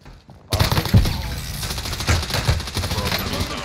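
Gunfire in Call of Duty Warzone on Rebirth Island, bursts of automatic shots and impacts rattling on after a quiet start, with a voice talking over parts of it.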